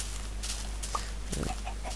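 A chicken in the Minecraft video game gives a few short, mid-pitched clucks over steady low background hum, with a small cluster of sounds near the end.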